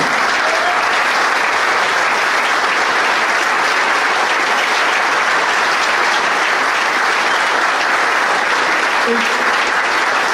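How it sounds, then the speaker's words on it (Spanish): A crowd at a union gathering of the railway workers' organization La Fraternidad breaks into loud, sustained applause, a thick roar of clapping that stays constant for ten seconds without a break. "un fuerte aplauso para él"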